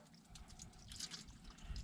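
A tire valve on a Kubota 3301 tractor whose tire is being filled with water for ballast lets out a faint, sputtering mix of water and escaping air, with small drips and gurgles heard up close.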